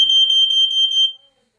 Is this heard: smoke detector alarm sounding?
yes